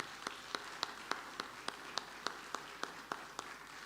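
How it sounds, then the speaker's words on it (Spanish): Church congregation clapping together in a steady, evenly spaced rhythm of about a dozen sharp claps, quiet and somewhat distant, with no voices over it. "Un aplauso para cada uno de ellos."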